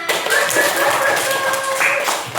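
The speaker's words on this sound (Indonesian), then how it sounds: "Beri aplaus ke Juna" A primary school class claps briefly for a student, a quick burst of many hands tapping together indoors, with faint voices under it.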